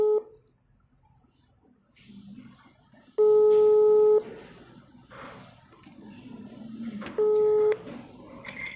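A telephone call rings over a speakerphone, with two loud, steady electronic ring bursts separated by a gap. Faint room noise and a murmur of voices sit between the rings.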